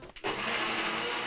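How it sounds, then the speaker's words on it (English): A kitchen blender whirs steadily and loudly, blending fruit and almond milk into a smoothie after a brief start-up stutter, with no talking over it. "Put it on the blender."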